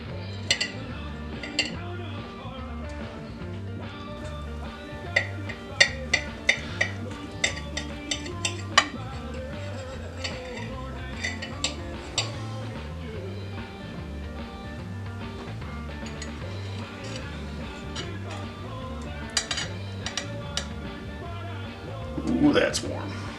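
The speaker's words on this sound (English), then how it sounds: "Take a serrated knife." Serrated knife sawing through warm Hawaiian luau pancakes on a plate, giving scattered light clinks and scrapes against the dish over a steady low background hum.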